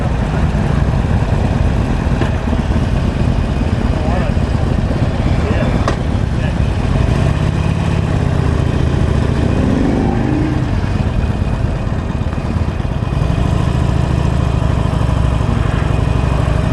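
Harley-Davidson Sportster 48 "Forty Eight" motorcycle ridden at Bikes Blues and BBQ 2014 with the throttle closed, its engine a steady loud low rumble with wind buffeting throughout, and a rider talking over it.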